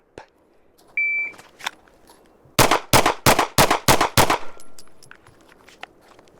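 A Springfield Hellcat Pro Comp pistol is fired in a timed shooting drill: a shot-timer beep, then a fast string of about seven sharp, loud gunshots in quick even rhythm at close range.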